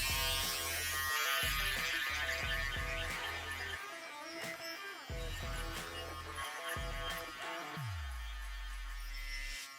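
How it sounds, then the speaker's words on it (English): Electric shaver buzzing in close, steady bursts during a mohawk fade haircut, starting and stopping several times as it passes over the head, with the motor pitch dropping near the end. "Shaver."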